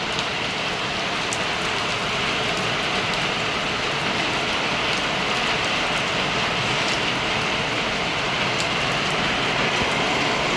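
Heavy rain pours down in a dense, unbroken roar that stays loud and even from start to finish, with no voices over it.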